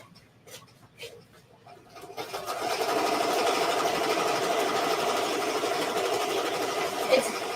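A Ricoma EM1010 embroidery machine stitches variegated rug thread through heat-transfer vinyl; after a few faint clicks it starts and settles into a fast, steady mechanical whirring hum that carries on evenly to the end.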